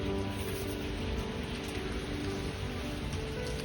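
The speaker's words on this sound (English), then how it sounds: "Some rain is coming. It sounds pretty. I bet you can hear it on the video." Steady rain falls on a chilly November morning, a soft continuous hiss of drops on surfaces, even and fairly faint with no voices over it.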